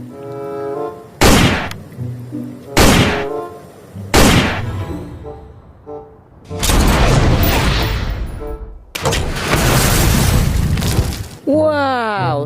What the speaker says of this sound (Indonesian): ada tembak-tembakan sniper